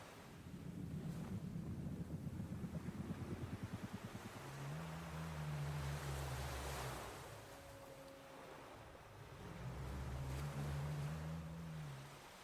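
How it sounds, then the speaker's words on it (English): Ocean waves surge and recede in slow, broad swells with a steady wash and some wind noise, a low rumble rising and falling in two long cycles, no voices. "the consistency of the waves, all that water pulled in contraction and expansion"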